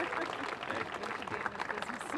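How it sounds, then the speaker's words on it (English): A crowd applauds at a neighborhood theater gathering about reviving the Avenue Theater neon sign in Portola. The clapping is brisk and steady, with a murmur of voices underneath. "Let's give her a big round of applause."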